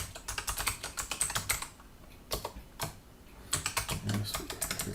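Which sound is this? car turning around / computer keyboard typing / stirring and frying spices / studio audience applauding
computer keyboard typing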